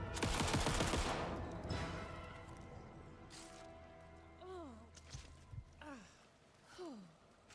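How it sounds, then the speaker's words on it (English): Rapid bursts of gunfire in the horror game Alan Wake II, a dense loud volley at the start that fades into scattered shots and a few descending whooshing effects. "Oh, you can rapid fire this shit."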